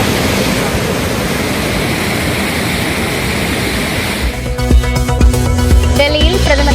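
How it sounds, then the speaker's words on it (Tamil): Hogenakkal's waterfalls on the Cauvery river, swollen by an inflow of 116,000 cubic feet of water, roar as a dense, steady rush of noise for about four seconds before music takes over. "ஆர்ப்பரித்து கொட்டும் அருவிகள்"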